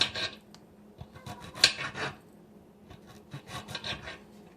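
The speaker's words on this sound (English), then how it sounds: "Cut up the ginger." Knife slicing fresh ginger on a cutting board: soft, close scraping and rasping cuts in short irregular strokes with occasional light taps, quiet and without speech.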